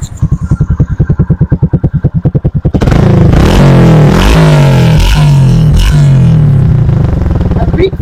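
A Hero Splendor motorcycle with a modified silencer idles with an even, thumping exhaust beat, then blips its throttle into loud, close revving with a rough, popping exhaust note.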